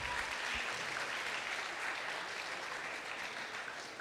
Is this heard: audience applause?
yes